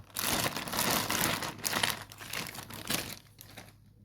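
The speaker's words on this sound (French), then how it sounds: "là maintenant je vais déballer les contenants du sachet" A plastic bag holding the parts of a door insect screen kit is opened and emptied, giving dense close crinkling and crackling that trails off into quieter rustles.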